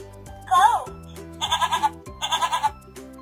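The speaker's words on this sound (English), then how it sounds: "what sound does a baby goat make, aka a kid" A recorded goat bleats three times from a children's animal picture book, one wavering cry followed by two rapid stuttering bleats, set over soft background music.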